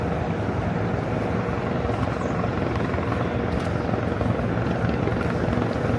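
A helicopter flying low over Manhattan, its loud, steady rotor thump and engine roar filling the whole stretch without a break, close and unchanging in level.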